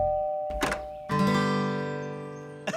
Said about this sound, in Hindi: अबे इतनी देर से घंटी बजा रहे हैं